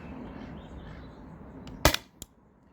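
A CO2-powered launcher from a 20 oz tank fires a riot ball in a weak shot: one sharp, close pop followed by a smaller second crack, set against a low background hiss.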